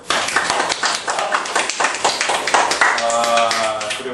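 A small group claps together for a few seconds, quick and dense at first and then thinning out, heard up close with voices mixed in toward the end.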